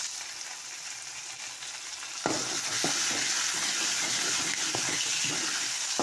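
Vegetables sautéing in oil for a curry give a continuous sizzle that jumps louder partway through as more is added, with occasional scraping stirs.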